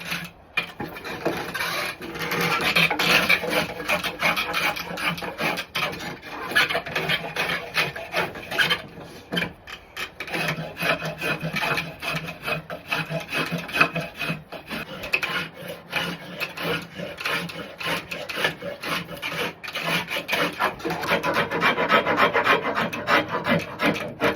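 A shaving tool takes deep, rapid rasping strokes along a wooden axe handle, a close, continuous scraping that repeats in dense, rhythmic bursts for over twenty seconds with no talk.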